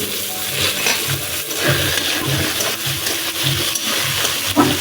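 Chopped tomatoes fry with onions in a hot pan, giving a steady close sizzle with soft clinks and stirring scrapes.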